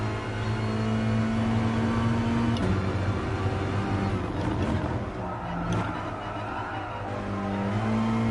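Alfa Romeo race car in a racing game holding a steady, loud engine drone with shifting pitch as it accelerates through corners, tires faintly scrubbing, continuous throughout with no talking.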